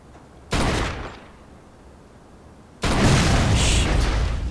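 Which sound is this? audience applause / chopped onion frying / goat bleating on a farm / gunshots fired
gunshots fired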